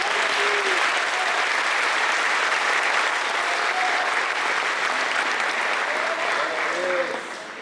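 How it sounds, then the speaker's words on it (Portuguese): A church congregation claps loudly and continuously during a Portuguese-language service, a full, dense applause with some voices calling out over it, fading off sharply at the very end. "Você pode aplaudir a Jesus."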